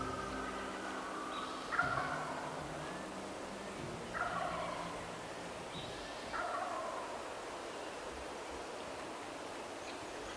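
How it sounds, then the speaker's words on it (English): Wild turkeys gobble on a mountainside above a large lake in Idaho: three or four rattling gobbles a couple of seconds apart, distant and moderately faint over steady outdoor hiss, with no voices. "the loon calls mixed with the turkey gobbles made for a surreal morning of calling"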